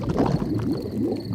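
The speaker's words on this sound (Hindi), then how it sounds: "ये डैडी के पेट की आवाज है।" A cartoon dad's stomach rumbles on a camping trip, a low gurgling growl that rolls on continuously for just over a second, close and fairly soft with no talk over it.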